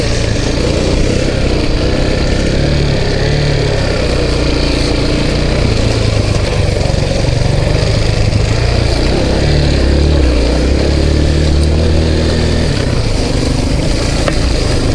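An Izh motorcycle riding along a rough trail, its engine droning steadily and loudly up close throughout, with fluctuating revs as it moves over uneven ground.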